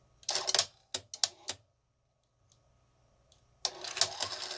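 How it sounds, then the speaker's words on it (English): A 1984 Sanyo Beta VCR, model VCR 3, ejecting a tape: a burst of mechanical whirring and clunks, a few sharp clicks, a quiet pause, then a longer loud stretch of motor and mechanism noise, close and with no talk. "So when I hit eject, a little power,"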